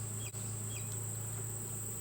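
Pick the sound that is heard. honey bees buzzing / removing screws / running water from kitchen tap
honey bees buzzing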